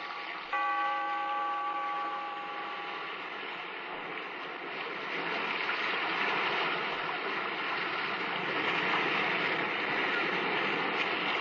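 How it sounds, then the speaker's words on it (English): A steady wash of surf and rushing water echoing in a sea cave, with the ringing tail of a bell fading out at the start. "We are met in this cave by the restless sea"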